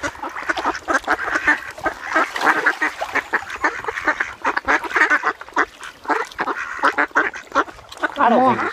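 Ducks quack in a busy, overlapping chorus while being fed, loud and close throughout, with a voice briefly heard among them.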